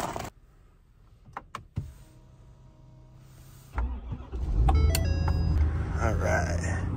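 A few clicks and thumps, then a Ford F-350 dually pickup truck engine starts and settles into a loud, close, deep rumble with some rattling, voices briefly audible.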